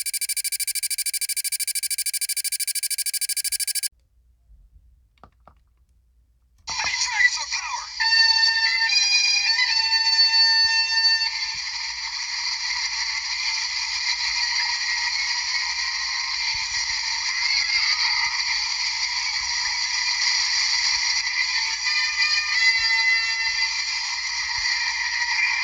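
A custom 1993 Power Rangers Dragonzord toy plays its swapped-in electronic sound effects: a short buzzy tone, a brief quiet gap, then a long loud synthetic electronic sequence that runs on steadily, with no talking.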